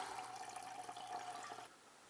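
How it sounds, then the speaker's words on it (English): Beer poured into a pint glass, a steady liquid rush and fizz close by for about a second and a half before it stops and goes quiet. "this one you just pour like a normal beer"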